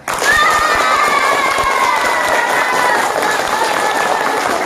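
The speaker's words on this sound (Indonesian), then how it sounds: "Tepuk tangan." Schoolchildren clapping and cheering during a religious talk at an elementary school in Sinjai, a loud, dense burst of applause with excited voices and whoops sustained throughout, close and lively.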